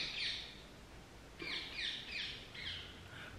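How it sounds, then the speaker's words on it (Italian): A small bird gives a quick chirp, then after a pause a run of five or six quick chirps follows, faint against a quiet indoor background. "Perché quando parlo fa casino questo uccellino?"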